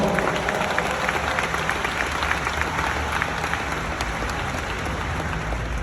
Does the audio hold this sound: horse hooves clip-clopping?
no